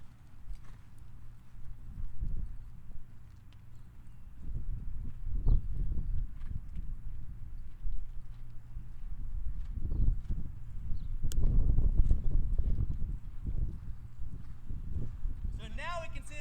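Horse loping under a rider, muffled hoofbeats thudding in an uneven three-beat rhythm at moderate loudness, with a trainer talking over them.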